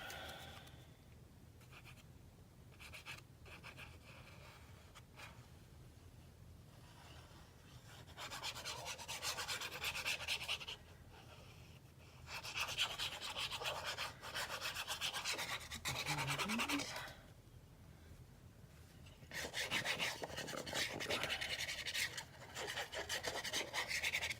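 Paper being glued onto a vintage traveler boxed set and rubbed down firmly, heard as long, close, dry rasping strokes in repeated bursts with quieter pauses between them.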